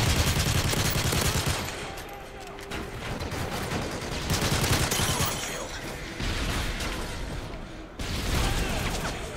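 Dense, continuous gunfire from Modern Warfare 3 gameplay, rapid automatic bursts and overlapping shots filling the whole stretch with a few louder surges, loud and close.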